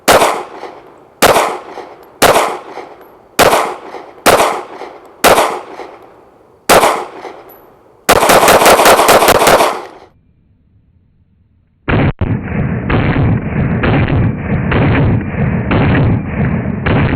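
Canik Mete MC9 9mm pistol fired at 10 yards: seven sharp, loud shots at a steady, unhurried rhythm, then a burst of metallic rattle, a short silence, and a sustained loud noisy roar to the end.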